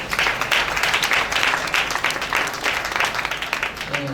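A church congregation applauds and cheers in praise of God, a dense steady wash of clapping and voices filling the room throughout, with a short sung or spoken tone at the very end.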